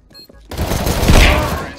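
Pistol shots in a CS:GO match, loud and close, coming as a dense burst of gunfire after a brief quiet moment with faint background chatter.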